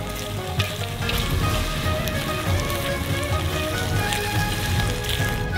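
Chopped green onions tossed into a hot wok of noodles, giving a steady, close crackling sizzle much like rain on a surface that runs evenly without pause.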